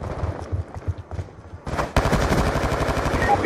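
Rapid automatic gunfire from a Call of Duty Black Ops 2 multiplayer match, first in scattered short bursts, then a dense, loud, continuous stream of shots up close.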